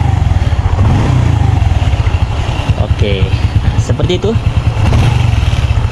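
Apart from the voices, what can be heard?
Honda Revo FI motorcycle engine revving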